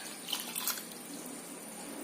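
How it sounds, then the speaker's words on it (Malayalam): Water is poured into fish curry gravy in a cooking pot, giving a soft, brief splashing trickle. It is fairly quiet and fades into a steady hiss. "ഇതിലേക്ക് കുറച്ച് വെള്ളം കൂടെ ചേർക്കും ഗ്രേവി കൂട്ടാൻ"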